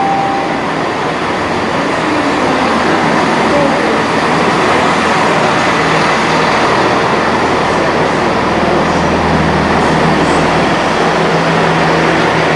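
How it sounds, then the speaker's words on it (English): A diesel passenger train, a Class 158 on the Heart of Wales line, approaches a station platform with a loud, continuous rolling rumble that holds steady throughout, with no voices. "The train now approaching platform 3 will divide on arrival at Shrewsbury."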